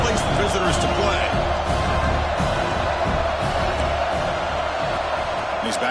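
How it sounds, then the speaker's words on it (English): Roaring stadium crowd at a football game, a dense continuous wall of cheering and shouting that makes the stands vibrate, loud and sustained, with a commentator talking over it. "listen to this crowd noise. This stadium is vibrating."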